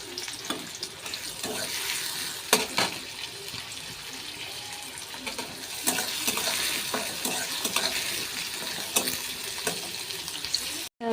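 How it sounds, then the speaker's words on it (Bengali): Chopped onion and green chilli fry in white oil in a wok with a steady crackling sizzle, broken by scattered scraping stir strokes at close range and with no talk. "পেঁয়াজটা ভাজা ভাজা হয়ে গেছে, আলুটা দিয়ে দেবো।"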